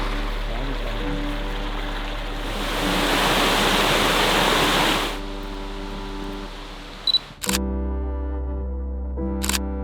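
Water flows steadily in the background at a Noboribetsu, Hokkaido nature site, a broad continuous rushing wash that swells louder midway, with a few brief clicks near the end and no talking.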